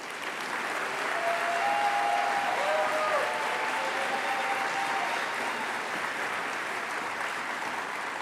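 Sustained applause from a large indoor audience welcoming the NASA Johnson Space Center director to the stage at an Artemis II crew homecoming event in Houston, a steady dense clapping wash lasting throughout, loud and even with a few faint tonal sounds underneath.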